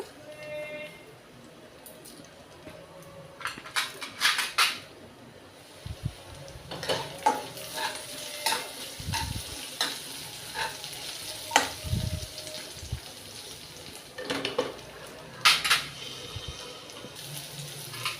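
Onions frying in a pan for tomato wheat-rava upma sizzle quietly beneath repeated clattering stirs and scrapes of a utensil, with a brief splash of running water and some faint talk in the background.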